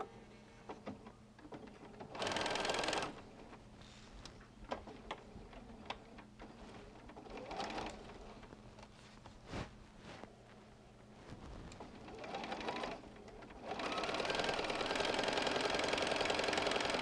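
Sewing machine stitching starter fabric for a lined Christmas stocking, a short run of stitching early and a longer sustained run at the end, with quiet handling clicks between.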